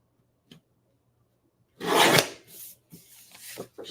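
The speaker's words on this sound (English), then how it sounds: "So I'll trim a little bit off one side. Guillotine's right here." A guillotine paper trimmer slices a strip off a piece of card, giving one short rasping cut followed by lighter scraping and handling sounds, close by with no talk.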